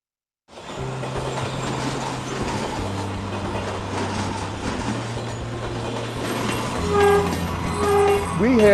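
A train with steel wheels rolling on steel rails, a steady close rumble with sustained low hum and a brief horn-like tone near the end, no talk.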